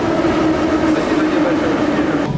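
Metro train at Olimpiiska subway station in Kyiv, a steady loud rumble with a sustained tonal whine and faint rail clatter filling the clip, with some voices mixed underneath.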